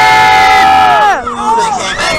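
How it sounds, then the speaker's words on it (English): Riders on an amusement park ride at Six Flags St Louis scream and cheer loudly together, a sustained high crowd shriek that swoops and breaks into mixed yelling, close and very loud. "Let's see which side can yell the loudest. Scream as loud as you can when your side goes up."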